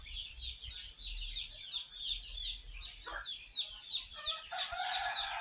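Free-range village chickens cluck in a steady, repeated rhythm close by while a rooster lets out a crow near the end, over quiet low background rumble.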